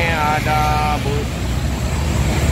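A bus, likely an ALS intercity coach, rumbles past on a highway near Palembang, steady engine and road noise with a brief musical horn-like tone sounding early, close by.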